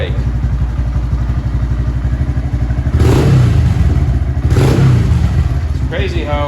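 A Honda Grom motorcycle engine idles loud and close with a steady putter, then revs twice in quick bursts before settling back to idle.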